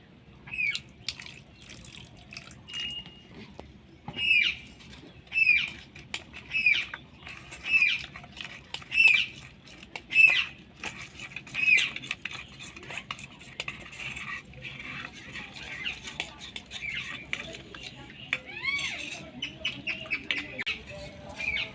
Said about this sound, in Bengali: এখানে 2 চামচ কর্নফ্লাওয়ার নিয়ে নিয়েছি। এবার এটা জল দিয়ে গুলে দেব।